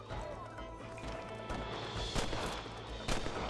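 Repeater rifle fire in Red Dead Redemption on PS4, with a few sharp, distant-sounding shots cracking over a steady rumble of game ambience and hoofbeats.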